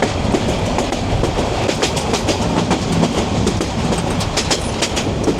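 Passenger train running from Dhaka to Kishoreganj, with a loud, constant roar and rapid clickety-clack of wheels on the track filling the whole stretch, no talk.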